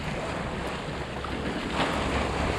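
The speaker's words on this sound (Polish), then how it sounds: "Zobaczcie, jakie spokojne morze." Pacific Ocean sea waves heard from aboard a sailing yacht on calm water: a steady, broad wash of water and wind noise with gentle swells rising slightly, continuous and fairly loud with no talking.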